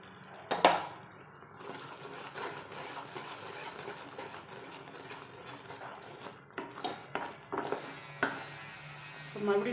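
Ghee is stirred into thickening jaggery syrup in a pan for peanut balls, giving faint sizzling and soft scraping with a few louder clinks of the spoon against the pan.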